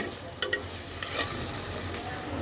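Bitter gourd and prawns stir-fried in a pan, a steady close sizzle with a few sharp scraping stirs near the start.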